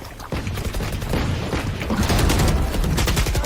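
Judge shotgun fire in Valorant, a rapid string of loud blasts over busy in-game noise, growing denser toward the end.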